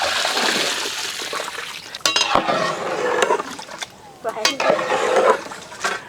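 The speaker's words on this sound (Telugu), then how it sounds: "దీంట్లో మనం కొలత ప్రకారం నీళ్ళు యాడ్ చేద్దాం" Water pours and splashes into a pot of mutton biryani rice at close range, with a few clinks of metal and some background voices.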